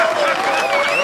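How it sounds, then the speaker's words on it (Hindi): Brief, loud burst of dense applause from many hands, a steady clapping wash with a faint tonal whine layered underneath. "इस बात पर ताली बजा के थैंक यू तो कह दो"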